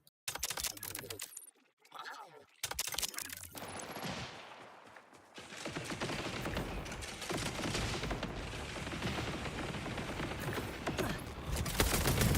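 Video game gunfire from a double-barreled weapon: dense bursts of rapid shots and mechanical reload clatter, loud and continuous, with brief gaps early on before a sustained barrage.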